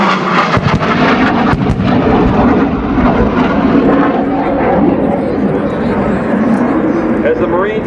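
A Marine Corps day-night, marginal-weather attack helicopter roars at an airshow, a loud, steady engine and rotor wash filling the whole stretch while a voice narrates over it.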